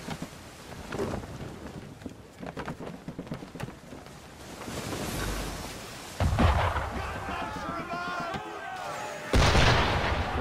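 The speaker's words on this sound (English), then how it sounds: "Why is he shooting at us?" Cannon fire from a ship in Assassin's Creed booms out in heavy, low blasts that swell from about the middle of the stretch, rumbling with rain-like noise, while voices talk in the first half.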